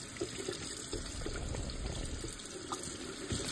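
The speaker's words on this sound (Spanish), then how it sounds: "Aquí lo estoy lavando, aquí con agua solamente." Beef heart being washed under running tap water: a steady gush from the faucet splashes into the sink, with small knocks and handling sounds on top and no talking.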